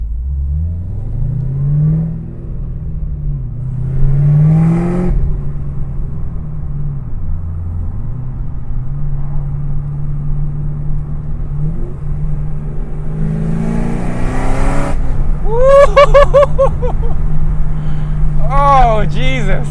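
A 690 rear-wheel-horsepower Chevrolet Camaro ZL1 engine hums low, then revs and roars as it accelerates hard, pitch climbing through gears, with an excited voice breaking in near the end.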